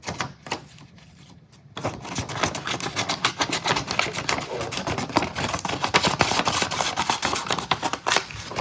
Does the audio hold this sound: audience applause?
no